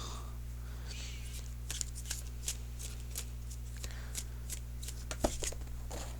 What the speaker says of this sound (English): now I'm going to shuffle for an outcome card.